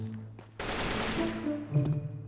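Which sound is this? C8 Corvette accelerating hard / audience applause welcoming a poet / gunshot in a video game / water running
gunshot in a video game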